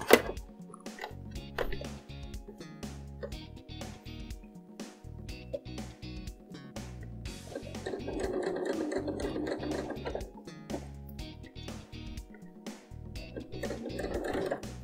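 A sewing machine stitches down a fabric pleat in rapid rhythmic bursts, running in short runs with brief stops and one longer stretch of continuous stitching.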